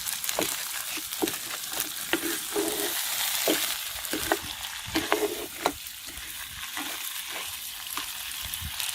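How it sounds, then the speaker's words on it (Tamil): Crab dropped into a pan of fried onions sizzles steadily for nine seconds, with bright crackling spits and repeated scraping stirs cutting through the broad frying hiss. "அதுக்குள்ள நண்டை போட்டு ஆவியை விடுவோம்."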